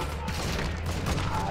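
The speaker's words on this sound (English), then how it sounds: "We're getting shot up." Dense, sustained gunfire in the Call of Duty: Modern Warfare II DMZ video game, overlapping shots and bursts packed tightly together at steady loudness for the whole short stretch, with voices faintly underneath.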